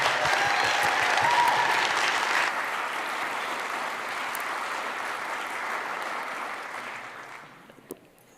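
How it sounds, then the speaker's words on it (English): A conference audience gives a panel a round of applause, the clapping loud and full at first, then thinning and fading away toward the end, with a faint voice briefly heard. "can we give this amazing panel a round of applause?"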